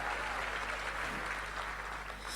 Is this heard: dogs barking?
no